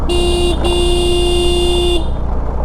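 A car horn honks twice on a steep uphill mountain road turn, a short beep followed by a long steady blast, loud and close.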